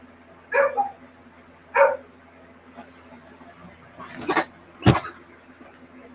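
A pet dog indoors gives two short barks, then a couple of sharper yips or coughs a few seconds later, each brief and moderately close against a quiet room hum.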